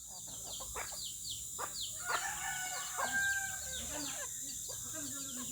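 Roosters crowing around a home yard on a Sunday morning, the household keeping about ten cocks. Several drawn-out crows sound at moderate distance over steady background noise, with some faint clucking in between.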